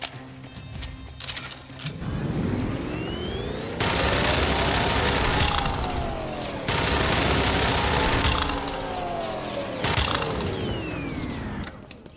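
Weapon fire from a gun in the shooter game Immortal Redneck: dense, sustained volleys of loud shots roaring in long overlapping bursts with mechanical clatter between them.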